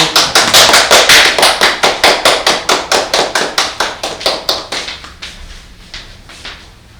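A poetry study audience applauds to welcome a poet, a loud, close burst of steady rhythmic clapping that gradually thins and fades over about seven seconds.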